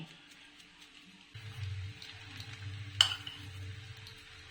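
Cooked pasta stirred into a white sauce with mayonnaise and oregano, soft close scraping and squelching in bursts, with a sharp clink of utensil on the pan partway through.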